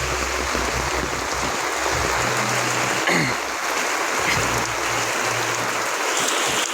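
Heavy typhoon rain and rushing floodwater pour steadily during Typhoon Enting in Purok 7, Barangay Cag Abaca, a dense, continuous roar close by with no talking.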